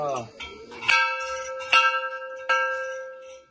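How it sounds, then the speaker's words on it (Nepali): A golden temple bell at Siddhakali temple in Bhojpur is struck three times, each clang ringing out with a long shimmering decay, close and loud, after a brief voice at the start. "सुनको घन्टी बजाउनु पर्ने हुन्छ।"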